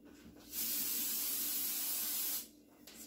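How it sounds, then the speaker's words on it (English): A steady pressurized hiss of cooking spray runs for about two seconds, close and fairly loud, with quiet room tone before and after. "Spray that sucker down just a little bit"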